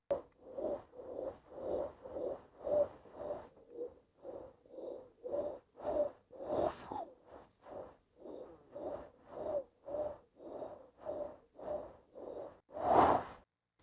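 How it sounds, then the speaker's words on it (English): Rhythmic heavy breathing recorded as a foley example, with a steady series of close, loud inhales and exhales, roughly two per second, each a rough breathy puff, ending with a stronger gasp. "we listen to the breathing example as well"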